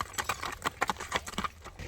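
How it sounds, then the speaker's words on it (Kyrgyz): A fast racing horse's hooves clip-clop in quick, uneven beats, close and fairly crisp, with no talking over them. "Эми ат көрүндү, күлүк экен."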